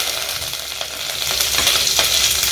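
Fennel seeds, cinnamon, a cardamom pod and cloves fry in hot oil in a pan while a goat intestine gravy is cooked, giving a loud, steady sizzle with crackles and a few stirring scrapes and clinks.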